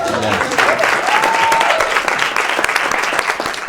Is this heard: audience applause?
yes